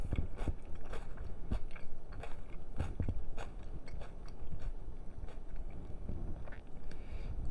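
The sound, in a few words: eating crunchy macaroni ham salad with bell peppers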